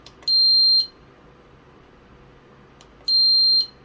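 A TX16S RC transmitter gives its sound alert: two identical high electronic beeps, each about half a second long and a couple of seconds apart, clear and close against near silence.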